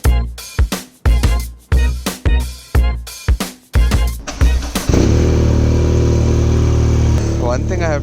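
A BMW motorcycle engine blips in a series of loud, choppy revving bursts, then settles into a steady, loud running drone close by; a person speaks over it.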